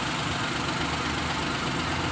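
A 2010 Maruti Alto LXi petrol car idles with a steady, close mechanical hum and light rattle. The engine runs alone with no talk.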